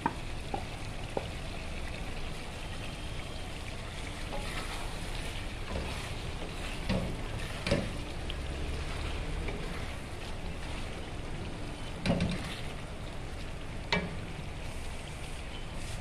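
Mutton karahi fries steadily in oil in a karahi, with butter added, giving a continuous close hiss and sizzle with occasional stirring clinks and scrapes and no voices.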